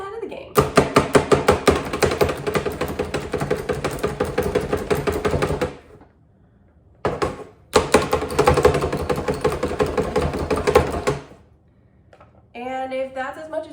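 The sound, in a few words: chopping an onion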